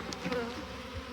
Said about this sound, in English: I got a bee buzzing around me now.